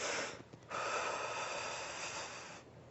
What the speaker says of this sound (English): I utilize breath control